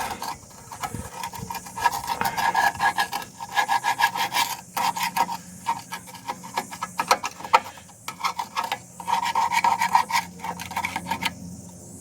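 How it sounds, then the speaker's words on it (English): Screwdriver scraping thick caked grime off the underside of a C3 Corvette pace car, repeated rasping strokes in uneven bursts, close and fairly loud with short pauses between passes. "there's nothing for it but to get a screwdriver out here and scrape it off"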